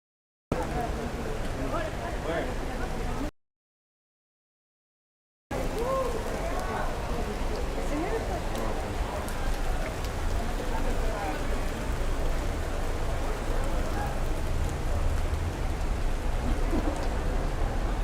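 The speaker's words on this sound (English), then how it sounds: "gonna have to wait for this rain to stop." Steady hiss of rain falling outdoors on a Miami afternoon, a dense constant patter broken only by a short gap.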